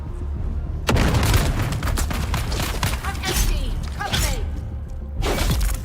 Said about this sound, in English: I do wish the grenades seemed to hurt them as much as they hurt me whenever I'm close to them